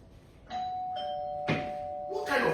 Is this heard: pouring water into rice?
no